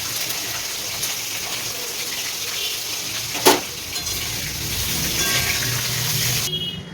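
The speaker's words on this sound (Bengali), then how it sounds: "কফিটা প্রথমে ভেজে নেব।" Cauliflower florets fry in a pan with a continuous sizzle, broken by one brief clatter of stirring midway and a slight change in tone near the end.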